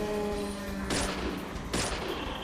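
Gunfire in a horror video game, with two sharp, loud shots about a second apart that each ring out briefly over a steady low background hum.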